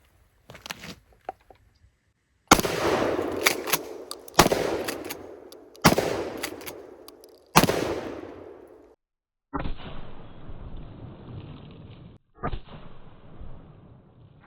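Four loud, sharp shotgun blasts from modern shells fired at jugs, spaced a couple of seconds apart, each with a short echo, followed by a couple of fainter thuds and shuffles.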